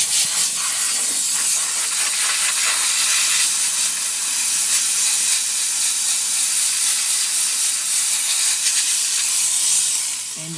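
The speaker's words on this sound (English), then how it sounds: "just a quick steam cleaning." A VX 5000 vapor steam cleaner hisses steadily on a car's seat belts in a bright interior, a loud, continuous spray with no pauses and no talk.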